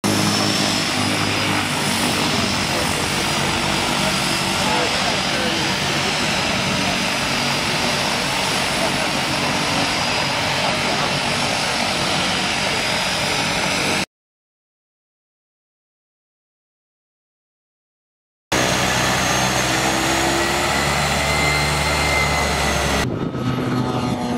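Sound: propeller skydiving plane taking off

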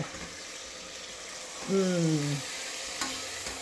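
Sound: ginger garlic paste frying while being mixed

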